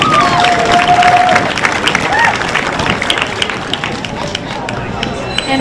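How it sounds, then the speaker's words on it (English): Audience applause at a junior livestock show, a sustained round of clapping from a crowd in an arena, loud and close, with an announcer speaking over it. "Let's give all 9 or 10 of these kids a huge round of applause"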